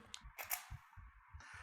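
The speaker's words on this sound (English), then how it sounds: "we're going to show you what it looks like to shoot with a slower shutter speed" A DSLR camera shutter fires at a slow 1/10 speed in a photo studio, giving a series of quiet, close mechanical clicks and clacks in a soft, steady rhythm.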